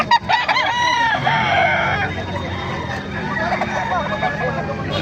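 A rooster crows loudly and nearby at the Bocaue tiangge chicken market, over a continuous din of other fowl clucking and people talking in the background.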